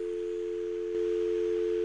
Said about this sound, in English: Oh, dial tone.